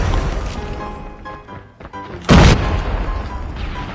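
In Call of Duty: Mobile, after a few seconds of gunfire clatter, a single loud grenade explosion booms and crashes, followed by lingering rumble and scattered noise.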